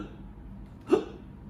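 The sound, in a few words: hiccups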